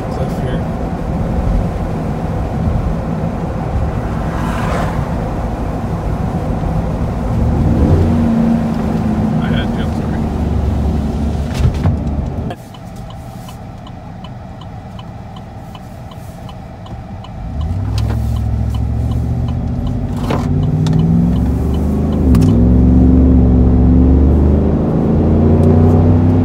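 A 2015 Chevrolet Silverado with a Magnaflow axle-dump exhaust drives outdoors past a rock cliff. Its engine drones steadily with a rising rev partway through, while wind noise rushes over it and voices can be heard.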